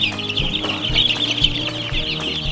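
Baby ducklings and chicks on a homestead make a constant chorus of high, shrill peeps close by, with soft thumps and rustling beneath them.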